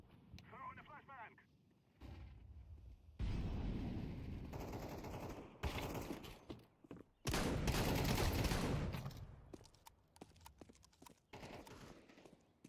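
Counter-Strike 2 gunfire comes in bursts of sharp rifle shots and rattling volleys between quieter stretches of in-game sound. Footsteps and other game noise fill the gaps.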